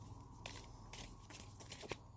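Tarot cards shuffle in a quiet room in a few soft, brief rustling bursts, close and faint.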